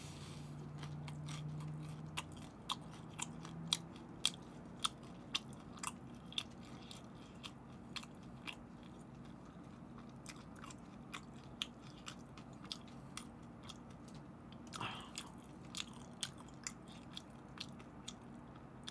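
Spicy tteokbokki set with dumplings and fried items being bitten and chewed close to the mic, a quiet run of sharp crunchy bites and soft chewing at irregular intervals, with no talk.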